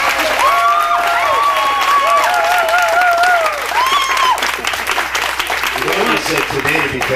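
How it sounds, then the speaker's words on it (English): Outdoor audience applause under a tent at an a cappella concert in Franklin Park, a loud, dense, sustained roar of clapping with some cheering, while someone talks over it. "More applause than you have given any a cappella group that has performed underneath this tent so far today"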